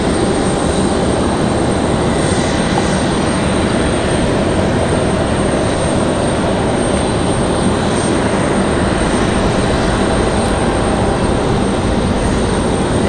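Turkish Airlines Boeing 777-300ER jet arriving from Istanbul, a steady, sustained engine roar that holds loud and even throughout.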